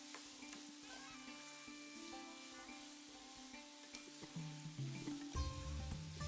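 Raw green tomatoes are stirred in a hot pan while they sizzle: a soft steady frying hiss under light utensil scrapes that grow louder and busier toward the end, heard up close.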